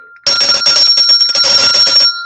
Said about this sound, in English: This is the infamous money bell. Ring for money.